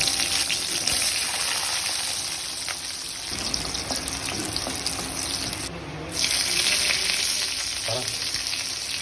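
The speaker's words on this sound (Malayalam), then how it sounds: "ഉള്ളിയിടുന്നു" Onions frying in hot oil, a dense, steady crackling sizzle close by that dips briefly midway, with faint stirring clatter and no voices.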